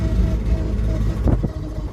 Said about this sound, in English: All right, let's enjoy this little drive.